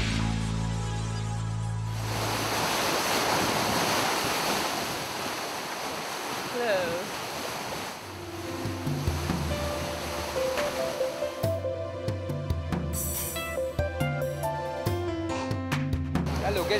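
Surf washes against an island shore outdoors, a broad rushing wash with some wind for several seconds before tonal sounds take over.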